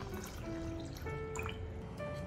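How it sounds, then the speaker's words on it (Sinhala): Water trickles and drips into a thick-bottomed pot of cowpeas set for boiling, a soft, close, fairly quiet pour with small bubbly plinks of rising pitch as the pot fills. "දැන් කව්පි තැඹෙන්න අවශ්‍ය ගානට වතුර එකතු කරගමු."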